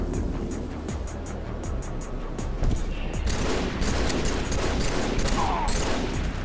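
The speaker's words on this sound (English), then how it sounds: "Jazz firing at Icarus." Gunfire in Halo 3 in an esports match, rapid repeated shots in a rhythmic burst, then denser overlapping fire and game effects continuing at moderate loudness.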